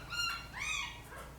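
Young puppies whimper in high, thin rising whines, two or three drawn-out cries close by over a low background hum, with no one talking.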